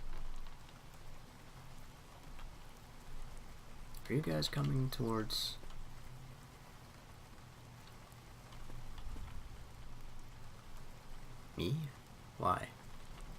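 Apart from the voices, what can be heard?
thunderstorm rain in the video game Cataclysm: Dark Days Ahead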